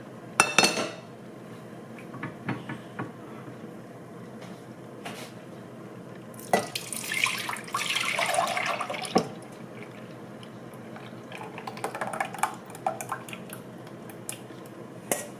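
Liquid poured back into a pan while making an orange roll cake, with clinks of metal and dishes, a burst of splashing and pouring in the middle and lighter clatter later, all close and without talk.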